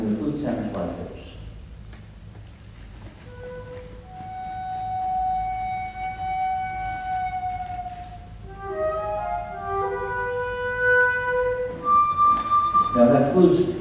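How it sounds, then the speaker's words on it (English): A flute plays a slow, airy melody of sustained notes, starting softly and rising into a brighter phrase, with brief rustling at the start and end. "And the flute sounds like this."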